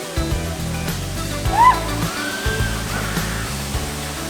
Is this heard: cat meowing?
no